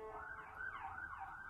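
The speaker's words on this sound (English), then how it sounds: "I'm sorry for all the sirens." Emergency vehicle sirens wail through a city street, a faint, distant rising-and-falling tone that sweeps up and down twice in quick succession.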